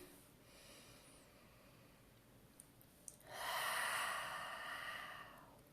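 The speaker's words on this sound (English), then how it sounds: "Let's take a deep breath in." A slow, deep breath drawn in through the nose during a calm tapping session: quiet room tone, a couple of small ticks, then a soft, breathy rush that swells and fades over about two seconds.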